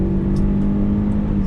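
A Lexus ES330 engine drones at high revs at full throttle on a race track, with a steady, loud mechanical hum and road noise throughout, no voices.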